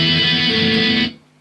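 Distorted electric guitar plays a short riff with a little hammer-on, loud and close, sustained for about a second before cutting off to a faint ringing tail.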